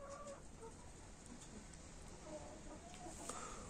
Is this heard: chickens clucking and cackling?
yes